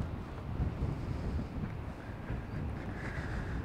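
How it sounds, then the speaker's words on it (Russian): Wind gusts at the Black Sea shore with a constant, heavy low rumble buffeting the microphone, with no talk and no breaks across the clip. "Эх, ветерок, ветерок."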